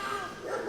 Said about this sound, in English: No, not the barking balloon animal.